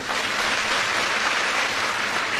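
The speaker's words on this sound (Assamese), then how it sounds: "আপোনালোকে এটা ডাঙৰ হাত চাপৰি বজাই দিয়ক" An audience at a government scheme event in Assam gives loud, continuous applause for a minister and department officials, a thick wash of many hands clapping throughout.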